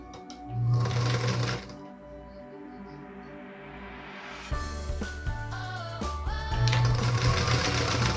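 A sewing machine stitches rows of quilt blocks together for a Bryan's Star quilt, running in bursts of steady mechanical whirring with brief pauses between runs.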